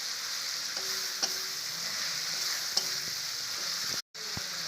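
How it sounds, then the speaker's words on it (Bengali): Coriander powder, chili powder and chopped tomatoes go into a hot frying pan for an egg and potato curry, giving a soft steady sizzle with a couple of faint clicks and a brief dropout near the end. "ধনের গুঁড়ো, লঙ্কা গুঁড়ো, কেটে রাখা টমেটোগুলো দিয়ে দেবো।"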